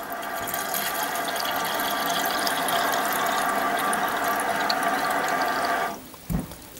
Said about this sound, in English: As you can see, water is coming out of the spout.